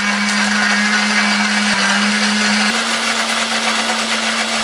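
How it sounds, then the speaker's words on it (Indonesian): An electric blender runs loudly and continuously, grinding pepper, shallots, garlic, turmeric, ginger and red chili with a little water, its steady motor hum shifting pitch slightly partway through. "Tambahkan sedikit air supaya lebih gampang untuk menghaluskannya."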